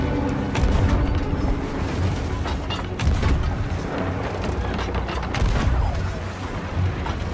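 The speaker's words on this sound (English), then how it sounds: "We got cannons coming in everywhere, mate." Ship cannons booming in a Sea of Thieves naval battle, loud heavy blasts and rumbling impacts piling up over dense game noise and music throughout, without speech.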